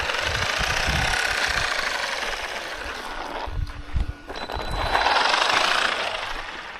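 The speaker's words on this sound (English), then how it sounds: "That's that rattling." Traxxas Maxx V2 RC truck with a rattle from the rear, a continuous buzzing, knocking mechanical drone that briefly drops and sputters midway before surging again.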